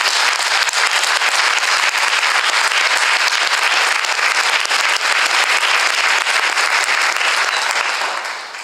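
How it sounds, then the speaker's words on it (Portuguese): A church congregation applauding during a service, sustained and loud with many hands clapping steadily before fading slightly at the end. "Eu queria que a igreja aplaudisse ao Senhor pela vida dele."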